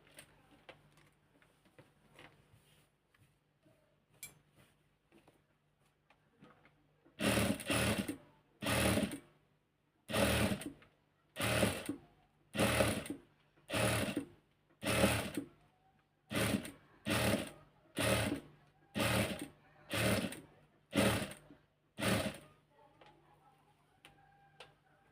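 After a quiet start, a sewing machine stitches a neck design in a series of about fourteen short, loud bursts with brief pauses between them.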